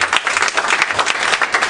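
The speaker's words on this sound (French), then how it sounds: "On l'applaudit, mesdames et messieurs." An audience applauding at a poetry evening, a dense, steady wash of many hands clapping together without a pause.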